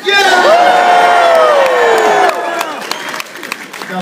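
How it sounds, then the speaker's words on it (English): A convention panel audience at New York Comic Con bursts into a loud cheer for Resident Evil 6, with whoops and shouting voices rising together, then fading into scattered applause and chatter. "Let's just do a really loud cheer for Resident Evil 6 and interrupt there"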